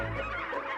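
Turkeys on a free-range farm call together in a dense, continuous flock chorus of clucking and gobbling, close and steady throughout.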